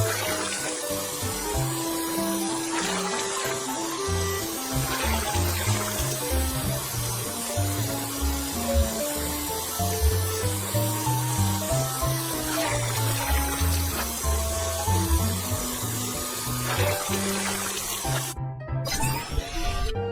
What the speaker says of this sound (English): drag the water sprayer to rinse off the mud